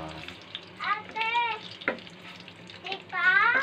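Garlic sizzles in a pan as the first step of chicken in pineapple sauce, a soft steady frying hiss under louder, high-pitched voices that come and go.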